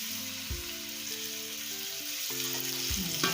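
Boiled potatoes sautéing in a hot pan for masala bonda, a steady broadband sizzle close by with a couple of low thuds as the pan or spoon is moved, and faint steady tonal hum beneath.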